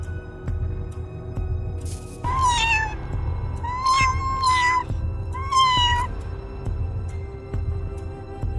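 At night, a cat meows three times, loud and close, with drawn-out wavering cries separated by short pauses over a quiet background hum.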